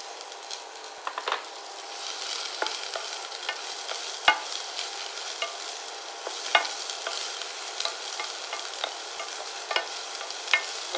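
Shallots sauté in ghee in a pan, a steady close sizzle broken by occasional scrapes and stirring knocks, with no voices.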